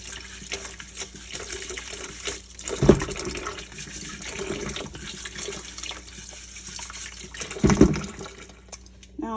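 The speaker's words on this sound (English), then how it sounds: "we just have this little vegetable scrubber brush and scrub each and every one of them" Running water splashes steadily while vegetables are scrubbed with a small vegetable scrubber brush, with a couple of louder sloshing knocks over the constant flow, close by.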